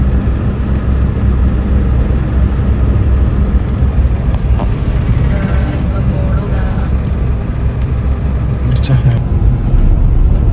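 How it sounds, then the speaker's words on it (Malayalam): A bus pulls in with a steady, loud engine rumble that stays constant throughout, heavy low-frequency drone with passing traffic noise nearby. "മോള് വരുന്ന ബസ് വരുന്നുണ്ട്"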